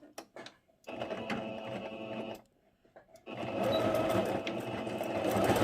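A sewing machine stitches the seams of an elastic fitted sheet, running in two bursts of steady motor whir and needle clatter separated by a brief pause, close and moderately loud with no talk.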